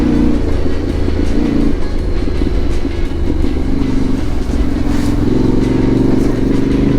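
A Yamaha T7 adventure motorcycle engine labors steadily up a wet hill, a loud, close, continuous rumble with a shifting drone as the rider gears down.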